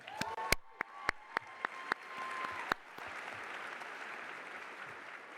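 Audience applause at a military enlisted-force development panel at a summit, a burst of sharp claps opening the clip, then spreading into a steady, moderately distant wash of clapping through the room.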